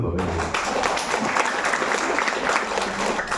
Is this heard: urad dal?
no